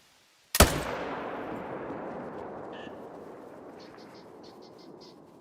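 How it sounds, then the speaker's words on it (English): A single sharp, loud hunting rifle shot in Hunter: Call of the Wild, followed by a long rumbling echo that slowly decays over several seconds, with faint chirping in the background. "6 seconds till we can hear the sound of me shooting."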